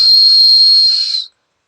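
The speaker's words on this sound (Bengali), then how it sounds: "যেই আমি সিটি মারবো সবাই কিন্তু জাম্প করবে।" A single loud, shrill whistle blast blown for just over a second at close range, starting a children's jumping game, then cutting off into silence.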